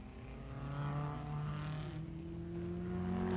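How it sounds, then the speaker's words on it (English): Lancia Ferrari V8 racing cars at the 1957 German Grand Prix run flat out, a sustained engine drone with steady tones that shift pitch as they pass, moderately loud without talk. "Hawthorn and Collins flat out in their powerful Lancia Ferrari V8s."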